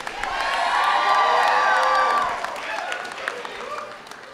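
An audience at the ASAP Summer Institute 2012 breaks into loud applause mixed with cheering and whoops, swelling quickly and holding strong before tapering into scattered clapping and shouts.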